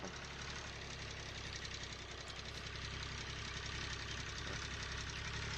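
Farm tractor engine driving with a mower during hay cutting, heard as a steady, low, rumbling drone with a faint rhythmic knock, constant throughout and without talk.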